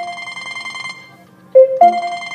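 A mobile phone rings with a melodic electronic ringtone: faint tones at first, then two louder notes sounding close by, with no speech.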